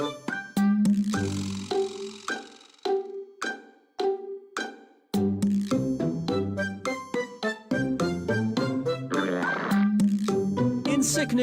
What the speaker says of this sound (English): Church bells are ringing.